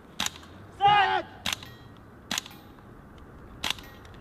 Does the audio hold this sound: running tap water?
no